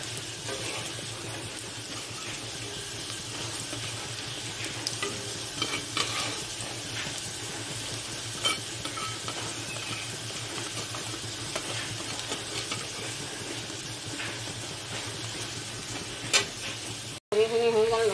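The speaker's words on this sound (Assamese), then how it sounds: "এইফালে আমলেট বনাই ল'লোঁ।" An omelette fries in a pan at home with a steady, close sizzle and crackle that continues throughout, with faint occasional kitchen clatter and a brief break near the end.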